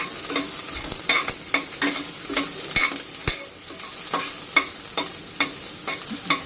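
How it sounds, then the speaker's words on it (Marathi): Crushed garlic and finely chopped onion fry in about a spoonful of oil for a spinach and chana dal dish, a continuous sizzle broken by regular scraping strokes of a spatula stirring the pan, close and clear. "ह्या तेलात आता हा ठेचलेला लसूण आणि बारीक चिरलेला थोडासा कांदा, तर तो चांगला परतवून घेऊया"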